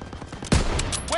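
A burst of gunfire from the Call of Duty: World War II video game, a single sharp loud shot in the middle of the moment with a ringing tail, amid battle noise.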